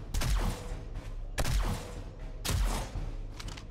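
Three evenly spaced shots from a Desert Vulture pistol fitted with a silencer, fired at a bear in the game 7 Days to Die. Each shot is a heavy, close, muffled thump with a short decaying tail, and no voices are heard.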